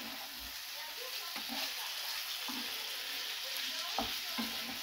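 Chicken pieces browning in a hot pan for curry, giving a continuous dense sizzle with a few faint stirring clicks, close and even throughout.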